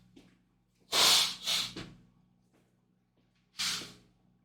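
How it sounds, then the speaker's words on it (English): Someone blows their nose close by: three sharp, forceful blasts in quick succession, a pause, then one more. "Bear with me while I blow my nose."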